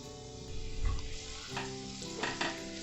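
Thinly sliced onions fry in oil in a pan for biryani, a steady close sizzle with a few scraping stirs and knocks of a spoon against the pan.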